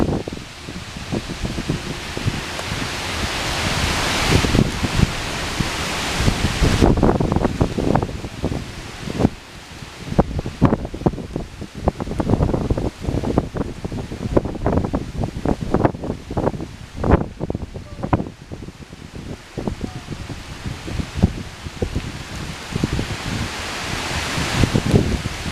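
Rain and gusting wind batter the scene during a summer thunderstorm in Poughkeepsie in the Hudson Valley, with dense rushing noise, crackling bursts and wind buffeting the microphone.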